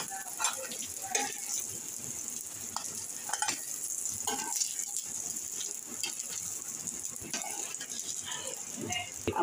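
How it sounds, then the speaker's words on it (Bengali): Crisp snacks made of flour and egg frying in hot oil as they are lifted out: a soft, continuous sizzle with occasional stirring clinks and faint background voices. "দেখুন একদম মচমচে হয়েছে, দেখতে অনেক সুন্দর হয়েছে, লাল লাল করে ভাজা হয়েছে। এবার আমি এগুলোকে তেল থেকে জড়িয়ে নামিয়ে নিচ্ছি।"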